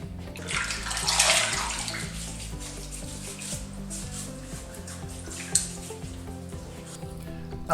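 A safety razor blade is swished and rinsed in a basin of water during a shave. Close, continuous sloshing and splashing goes on throughout, with one sharp clink near the end and no talk.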